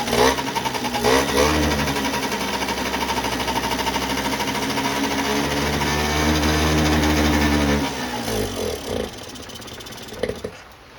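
A 1989 Yamaha Riva Razz 50cc scooter engine fires up and runs at a loud, steady buzzing idle for several seconds, then revs briefly and settles, close up with no talk.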